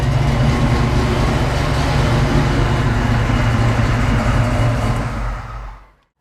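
Close, loud engine idle of a Foxbody Mustang fitted with a Holley fuel system, a steady low rumble that cuts off abruptly, leaving silence.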